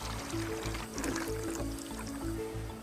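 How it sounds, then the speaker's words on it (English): Water pours steadily into a cooking pot that holds a tomato mixture, a soft continuous splashing and filling sound with a low, pulsing rhythm, fairly quiet and alone. "He then fills the pot with more water so it achieves the same consistency he had before the tomatoes"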